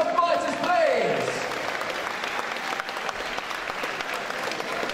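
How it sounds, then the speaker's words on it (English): Crowd applause rings out for two young boxers after their bout at a Contenders Norwich fight night, dense steady clapping filling the hall, with a brief announcer-like voice and whistle early on before the applause carries on alone. "a massive round of applause for both these young fighters, please."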